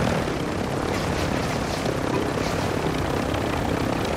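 A helicopter flying in a battle royale video game, a loud continuous rotor thrum and engine roar that stays steady and close throughout, with no speech.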